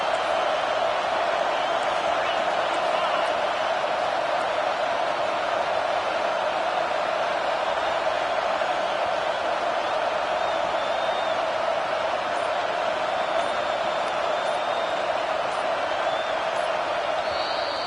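A stadium crowd roars in a college football video game on a big fourth-down play against TCU, a dense, steady wall of cheering that holds for the whole stretch, with a few faint whistles near the end.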